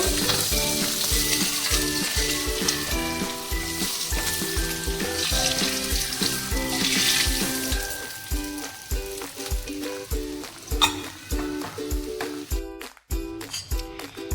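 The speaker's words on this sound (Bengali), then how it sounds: "এইবারে ফোড়নটা দিয়ে দিলাম কালো জিরে সাদা জিরে লঙ্কা টমেটো কুচিটা দিয়ে দিলাম" Nigella seeds, cumin, chili and chopped tomato hit hot oil in a home kitchen pan, and a loud, steady sizzle fills the first half before easing into softer frying crackle with light clatter near the end.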